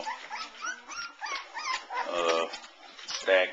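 Three-week-old puppies from a litter whimpering and yipping in high, wavering cries, close, with a voice speaking partway through.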